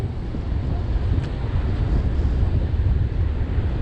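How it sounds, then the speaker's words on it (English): Strong gusty wind buffets the microphone on a sandy beach, a continuous loud low rumble with heavy blustering and faint surf mixed in, and no voices. "windy."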